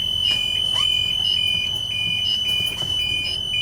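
A school bus emergency exit alarm buzzes continuously at a steady high pitch while the exit stands open, loud and close, with faint shuffling underneath.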